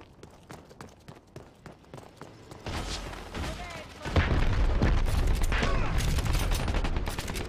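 Grenades thrown over the top in the shooter Dirty Bomb burst into a dense, rumbling wall of explosions and gunfire that swells midway and stays loud, mixed with scattered shots and movement noise.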